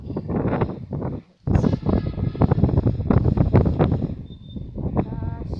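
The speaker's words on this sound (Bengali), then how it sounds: "বাতাস, কি সুন্দর বাতাস" Wind gusts buffet the microphone on a rooftop, loud and rough with one brief lull before the blowing resumes.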